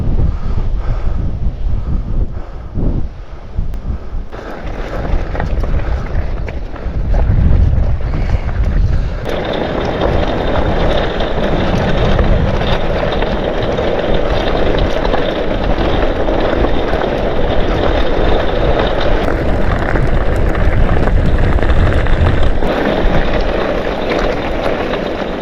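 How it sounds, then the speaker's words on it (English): Strong wind roars across open moorland, buffeting the microphone in loud, continuous gusts that build and stay heavy throughout. "wind's certainly picking up"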